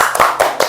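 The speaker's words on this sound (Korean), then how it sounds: "박수!" A few sharp hand claps, about three quick slaps in under a second, in a small seminar setting, close and loud with no voices.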